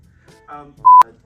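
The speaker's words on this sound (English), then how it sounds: "That's a phone call with me and Joseph Kahn" A phone call being placed plays out as a few soft tones followed by one loud, clear dial tone beep, short and close.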